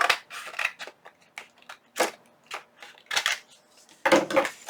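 Paper ends are trimmed for a wallet-style junk journal, giving a series of short, crisp cutting snips and paper rustles in uneven bursts, close by with quiet gaps between.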